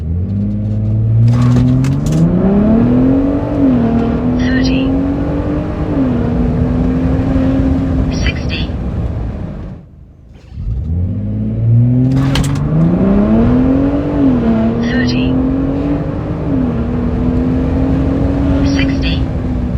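A Gen 3 Ford Raptor truck fitted with a VR2 ECU tuning box makes two hard 0-60 acceleration runs. Each time the engine note climbs steadily through the gears, loud and close, with a brief lull between the runs.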